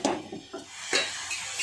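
Metal lid set onto a cooking pan on the stove, a few short clanks and scraping rubs in quick succession, close and moderately loud.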